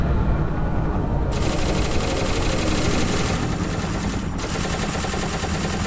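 Rapid automatic gunfire in the SCP Containment Breach video game comes as a dense, loud, continuous rattle of shots with a constant mechanical hum underneath. There is no talk.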